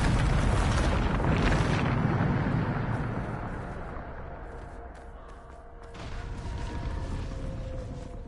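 A spell explosion in the Hogwarts Legacy video game: a heavy, loud boom opens, then rumbles and crackles fade over several seconds, followed by a renewed swell of debris-like noise, with no talk.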